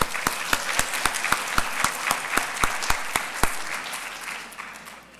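At an awards ceremony honoring recipients, a few distinct claps ring out, close and fairly slow, over a light background patter. The sound fades gradually toward the end.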